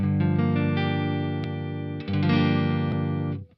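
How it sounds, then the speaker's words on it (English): A guitar run through a JPTRFX Kaleidoscope reverb pedal without speaker saturation plays two sustained strummed chords. A rich, shimmering wash hangs between them, and the last chord fades out abruptly at the end. "I actually want to show you the reverb without the speaker saturation"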